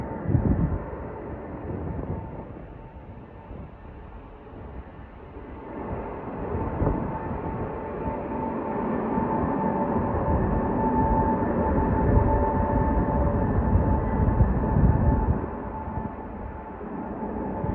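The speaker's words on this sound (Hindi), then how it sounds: "वो आ रहा है इंजन भाई," Train locomotive engine approaching on a railway track: a steady, broad rumbling drone swells gradually louder over many seconds, with wind noise buffeting the microphone.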